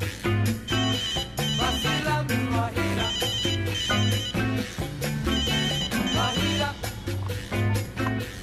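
A mobile phone's musical ringtone plays loud and unbroken in a hospital operating theatre, with a steady, rhythmic tune and a thudding low beat. No one speaks over it.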